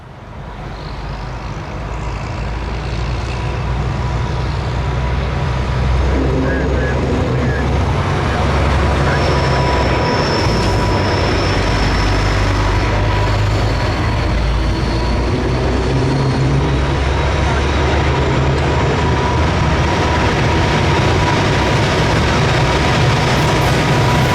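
A Reading and Northern freight train climbing a grade near East Mahanoy Junction rumbles loud and close for the whole stretch, a steady heavy engine roar with wheel and rail clatter and a faint high whine above it.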